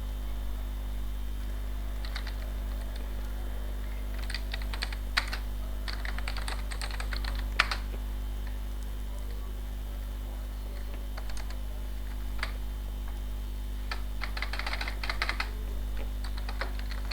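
Bursts of keyboard typing, quick clusters of key clicks separated by pauses, close up over a steady low electrical hum.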